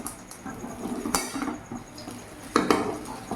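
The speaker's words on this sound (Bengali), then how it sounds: "একটু নাড়াচাড়া করে নেবো" Fried peanuts and egg being stirred together in a pan, with a spatula scraping and clinking against metal in uneven bursts and two louder knocks over a low frying sizzle.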